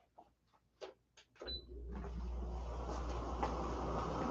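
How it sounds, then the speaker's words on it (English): An air conditioner is switched on indoors: a few faint clicks and knocks, then a steady low hum and airy whoosh that rises and keeps running without pause. "I know that you're gonna hear the air conditioner."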